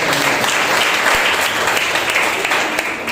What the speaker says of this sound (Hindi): स्वागत है, जोरदार ताली।